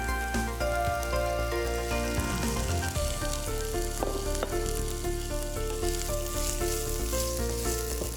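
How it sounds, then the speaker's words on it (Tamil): Chopped tomatoes frying in a pan, a loud, steady sizzle and crackle close up, with occasional stirring scrapes and hum from kitchen equipment in the background, no speech. "இப்போ வந்து நம்ம தக்காளி ஆட் பண்ணிடலாம்."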